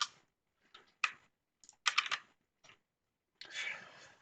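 Bursts of quick typing on a computer keyboard while entering a search, close and quiet, with short pauses between clusters of key clicks and no talk.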